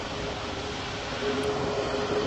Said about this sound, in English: you can still hear those nice jet engines.